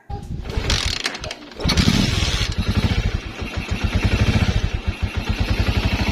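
A motorcycle engine cranks, sputters, then catches and settles into a rapid, clattering idle, loud and close, with a short pause before it fires.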